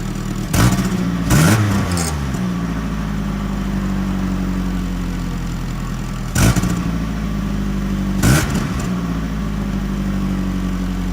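A Nissan 240SX engine idles steadily and is revved sharply four times, in two pairs of quick bursts, close and loud, with the intake loudest.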